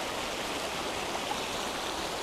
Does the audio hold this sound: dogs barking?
no